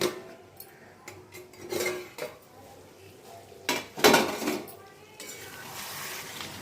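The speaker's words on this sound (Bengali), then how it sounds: "ওই অল্প অল্প জল দিয়েই মশলাটাকে ভালো মতন কষিয়ে নেব।" Mutton and spices stir-fried in a pot, with metal spoon scrapes and clanks against the pot in bursts over a soft sizzle, close and fairly quiet, with no talk.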